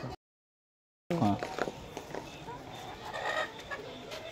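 Chickens on a farm cluck close by in short bursts after a brief gap of silence, with soft background noise and a few faint calls further off.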